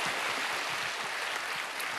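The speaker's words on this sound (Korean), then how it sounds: "a hand clap of praise" A church congregation claps together in praise, a dense, steady wash of many hands applauding for the full stretch with no voices standing out.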